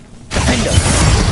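A Glacius freezing spell in Hogwarts Legacy bursts in suddenly after a short quiet moment, then gives a loud, sustained icy shattering crackle.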